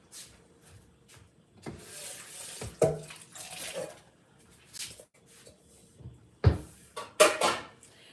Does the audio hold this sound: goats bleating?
no